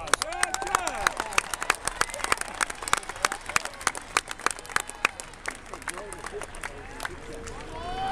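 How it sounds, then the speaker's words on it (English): A crowd at a caber toss competition claps steadily with sharp, dense hand claps, and an announcer's amplified voice carries over the applause. "Let's give Chad a round of applause"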